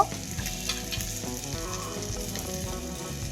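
Pieces of egg sizzle and spit in hot oil in a pan, a continuous crackling fry with a few sharper pops, moderately close and alone without talk.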